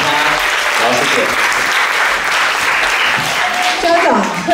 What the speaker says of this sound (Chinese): 同学掌声鼓励他